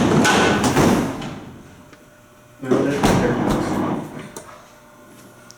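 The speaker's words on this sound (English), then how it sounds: "But then you hit the door open button. She opens up." A heavy freight elevator door rumbles and clatters open, with a second loud scraping surge midway, and a person briefly speaks over it.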